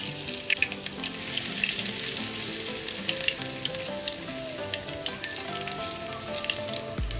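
Garlic sizzles loudly in hot oil, a dense, steady frying crackle with scattered pops throughout.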